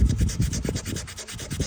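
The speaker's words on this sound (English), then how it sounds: "when you're sanding on the blade, always try to have something to brace the blade on" Hand sanding the steel blade of a 1977 Case XX Rail Splitter pocket knife, a close, steady back-and-forth rasping in quick even strokes, alone without talk.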